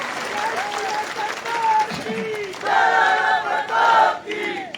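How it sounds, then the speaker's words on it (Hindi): Audience applause and cheering at an all-India Hindi poetry gathering (kavi sammelan) in Etawah, a steady wash of clapping across the whole stretch with a voice talking and chanting over it. "तो एक बार अपनी तालियों का अभिषेक महाराणा प्रताप के मस्तक पर कर दीजिए"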